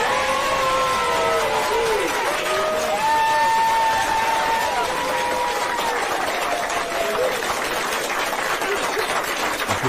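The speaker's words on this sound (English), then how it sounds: "This applause is for y'all." An applause sound effect: a crowd claps and cheers in a steady, loud wash, with whistles rising above it, lasting the whole time without a break.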